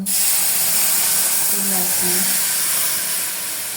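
Steady loud hiss and sizzle as water is added to a hot pan of tomato-carrot rasam, broad and continuous throughout, with faint low tones briefly rising underneath.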